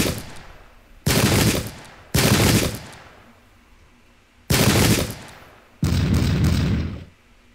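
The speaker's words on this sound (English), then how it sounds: "Load and fire, lads." Soldiers in a Zulu War battle strategy game fire four loud musket volleys at uneven intervals, each a dense crackling roar that fades into a quieter stretch.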